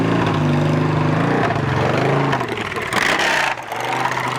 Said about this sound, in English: we got a little exhaust from the Harley that just came back down the long side of the hill